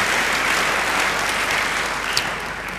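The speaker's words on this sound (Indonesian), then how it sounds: "Beri tepuk tangan yang baik buat Dia." A church congregation claps together in praise, a steady, dense round of applause filling the space and sustaining for a few seconds before tapering slightly, no voices over it.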